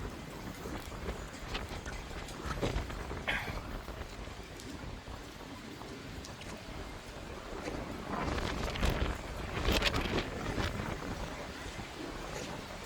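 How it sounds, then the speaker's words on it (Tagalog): Steady wind roars and buffets the microphone, mixed with a constant wash of heavy rain, swelling louder toward the end, outdoors in Auckland, New Zealand. "medyo malakas ang ulan, malakas ang hangin"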